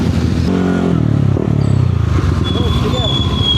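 A motorcycle engine revs hard and close on a rainy day, its low throaty drone rising and falling steadily throughout.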